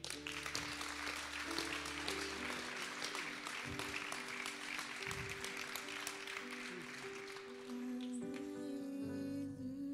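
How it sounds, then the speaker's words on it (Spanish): Worship congregation applauding at a church service with a prophet, dense steady clapping over sustained music with a held keyboard or organ chord, a few voices mixed in. "Aplauda al rey porque algo grande viene."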